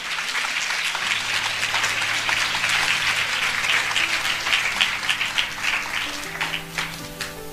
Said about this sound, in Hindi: आइए हम इस वचन के लिए अच्छी ताली बजाएंगे